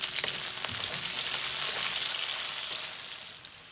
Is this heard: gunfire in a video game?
no